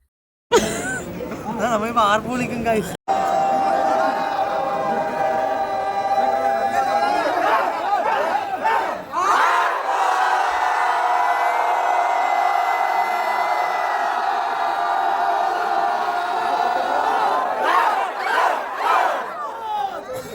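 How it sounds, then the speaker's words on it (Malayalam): At a wedding, a group shouts traditional aarppuvili cheers together, loud rhythmic rising cries from a crowd, broken off briefly then resuming, with chatter and some laughter mixed in. "ഹരം പിടിച്ച് ആർപ്പുവിളി സംഘത്തിൽ ചേർന്നു"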